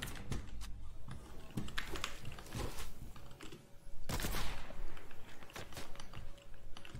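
Gunfire in a Fortnite game, rapid sharp shots in bursts mixed with clicking keyboard taps, near and fairly loud, with short pauses between volleys.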